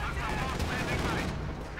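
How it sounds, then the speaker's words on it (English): A Panzer IV tank shell striking and penetrating a target in Company of Heroes 2, heard amid dense, continuous battlefield gunfire and rumble over a short stretch, with a commentator's voice faintly mixed in. "Another hit penetrating there from the Panzer IV."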